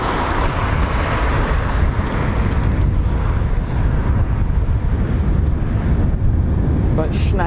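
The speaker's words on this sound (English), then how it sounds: "I can hear a KC-135 taxiing out" A KC-135 tanker aircraft taxis out at an RAF airbase, its engines a steady broadband roar heard at a distance and mixed with gusty wind buffeting the microphone throughout.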